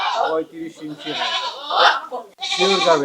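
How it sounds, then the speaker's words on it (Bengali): A large Totapuri goat, about 35 inches tall with six teeth, bleats at a livestock sale near a border area, giving a few loud, close wavering cries while someone talks over and between them. "এটাও একটা তোতাপুরি ছাগল"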